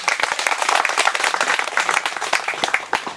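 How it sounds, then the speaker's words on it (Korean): Audience applause breaks out at a Korean lecture hall talk, a dense patter of many hands clapping close and steady for a few seconds, with no one speaking over it. "박수 한번 치시죠."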